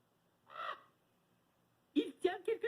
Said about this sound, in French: Corbeau!